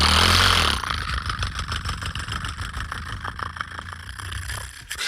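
A man vocally imitates a motorcycle engine, a loud sustained rumbling drone with rapid pulsing that comes across more like a chugging tractor, alone and close.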